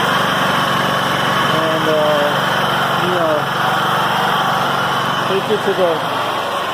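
A Wen 625i inverter generator runs at its lowest RPM during break-in, a steady, fairly loud engine drone that continues while someone speaks briefly over it.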